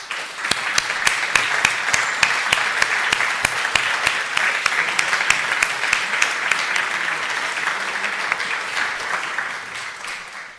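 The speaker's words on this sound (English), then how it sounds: "recognized with a round of applause" Steady audience applause at an alumni awards ceremony honoring award recipients, a continuous dense wash of many hands clapping with sharper individual claps standing out, holding level for about ten seconds before tapering off at the end.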